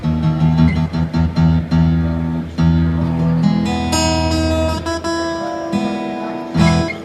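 Acoustic guitar strings plucked repeatedly with pauses between, single notes and brief chords checked one after another as if being tuned.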